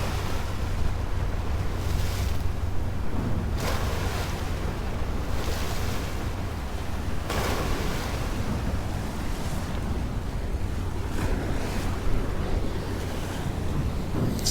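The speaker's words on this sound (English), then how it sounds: "Hope with the microphone you can hear the water lapping backwards and forwards against these rocks here." Water laps back and forth against rocks on a cool night in Sydney, a steady wash of surf with gusts of wind on the microphone and no voices.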